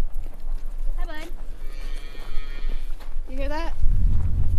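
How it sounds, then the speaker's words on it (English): A cow at an animal sanctuary gives two loud, drawn-out moos a couple of seconds apart. Both calls sound close, over a noisy outdoor background. "You hear that? That was a cow."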